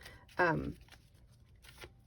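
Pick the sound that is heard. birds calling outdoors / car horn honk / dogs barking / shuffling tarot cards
shuffling tarot cards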